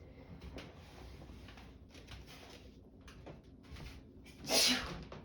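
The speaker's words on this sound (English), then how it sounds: "Oh, I need to sneeze." A single short, sharp sneeze bursts out near the end after a quiet stretch of faint room noise.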